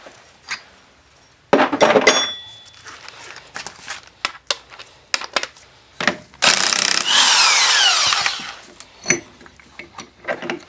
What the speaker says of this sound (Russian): Давайте открутим уже.